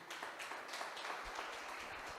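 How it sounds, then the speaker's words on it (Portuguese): A church congregation applauds, a soft, steady patter of many hands clapping at a distance, faint and continuous. "Você pode aplaudir o Senhor Jesus?"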